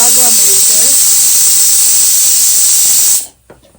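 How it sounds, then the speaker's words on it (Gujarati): A kitchen pressure cooker whistle releasing steam, a loud, steady high-pitched hiss close by that cuts off abruptly near the end, with brief faint voices underneath. "કુકરની સીટીઓ વાગવા મળી છે."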